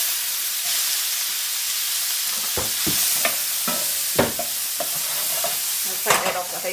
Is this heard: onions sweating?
yes